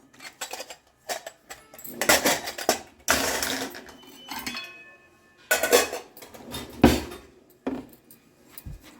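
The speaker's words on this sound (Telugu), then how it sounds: "ఇక ఫ్రై అవుతూ ఉంటాయి పప్పులు. ఇది మంచిగా కలుపుదాం." Lentils frying in a pan for upma are stirred with a utensil, giving irregular metallic scrapes and clinks against the pan in short bursts, close and moderately loud with no talk.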